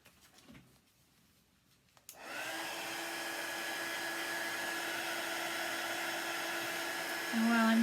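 A hair dryer is used to dry paint on a wooden vintage farm stand sign, starting after a brief clunk and then blowing in a steady, loud continuous whoosh that rises slightly near the end.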